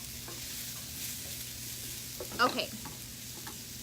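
Food sizzles and fries in a hot Lodge pan while being stirred, with a brief scrape of the utensil midway and a short spoken word over the steady sizzle.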